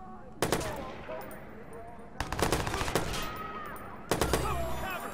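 Rapid automatic gunfire from the video game Watch Dogs comes in three loud bursts with ringing, echoing tails between them, close and dominant.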